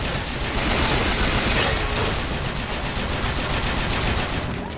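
Sustained rapid gunfire fills a Bioshock Infinite firefight, a dense, loud, continuous rattle of shots with booming low end, running steadily without any talk.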